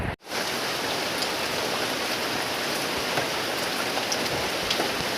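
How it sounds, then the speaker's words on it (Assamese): Heavy, continuous early-morning rain falls steadily, a dense even hiss of drops on surfaces that stays constant from start to finish with no voices. "ৰাতিপুৱাৰ পৰা এতিয়া নেৰানেপেৰা বৰষুণ দিছে"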